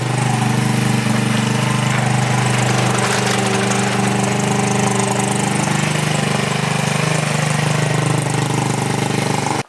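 A Taotao GY6 150cc scooter engine runs steadily and loudly up close, a continuous buzzing drone with a rough, knocking edge and no pauses.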